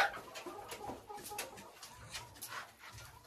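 A Marans hen in a coop gives soft, quiet, irregular clucks in short bursts, fairly close, with faint rustling between the calls.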